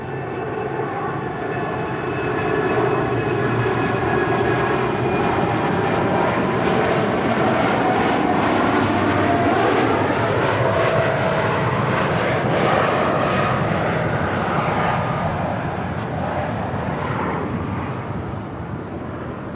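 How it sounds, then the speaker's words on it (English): An Atlas Air Boeing 747-8 freighter takes off from LAX runway 25 right toward Anchorage, its jet engines giving a loud, sustained roar that swells and holds for nearly twenty seconds. "That is Atlas Air Giants 8711 taking off to Anchorage on a 747-8 freighter."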